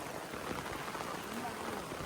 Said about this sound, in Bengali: এই দেখুন আমি ভিজতেছি পা বৃষ্টির মধ্যে ভিজে ভিজে যাচ্ছি